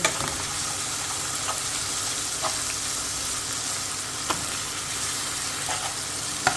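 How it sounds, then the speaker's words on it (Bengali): Garlic and ginger paste fries in a pan with a steady, crackling sizzle, broken now and then by the sharp clicks of a spoon stirring. "একটু রসুন দিয়ে দিলাম আর একটু আদা বাটা দিয়ে দিলাম এগুলো দিয়ে এখন আমি কষে ফেললে"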